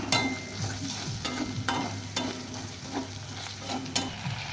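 A spoon stirs ground spices with Kashmiri red chili powder and coriander powder in hot oil in a pan, giving soft scraping strokes every second or so over a continuous gentle sizzle.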